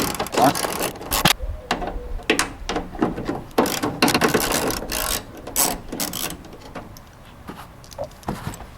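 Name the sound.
removing tail light screws on 2014 Ford SVT Raptor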